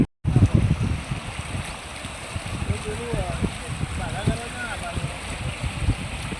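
Saraswati river water flowing at Siddhpur, a rushing, trickling stream close by with a steady wash and gurgling ripples, under intermittent talking and light wind.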